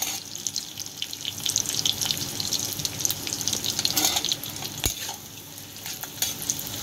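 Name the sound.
onions frying lightly in a pan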